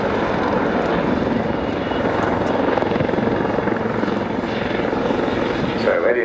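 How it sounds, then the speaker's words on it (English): A Lynx military helicopter at an air show hovers, its steady, loud rotor thump and engine roar filling the whole stretch without letup, with a faint crowd murmur beneath. "So Eddie and Alex now bringing it back into a safe hover."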